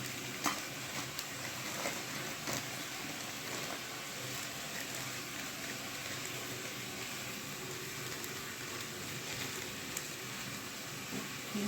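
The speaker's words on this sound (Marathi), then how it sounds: "हे सगळं आता एकत्र आपण मिक्स करून घेणार आहोत" A spoon stirs spices, garam masala, salt and chili flakes together in a hot pan, giving a steady soft sizzle with faint scraping, low in level and continuous throughout.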